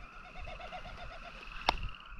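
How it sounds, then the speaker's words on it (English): Birds and frogs call outdoors at a cold morning campsite, with a soft rhythmic pulsing call repeating steadily over faint tonal chirps, plus one sharp click. "Listen to all the birds and the frogs."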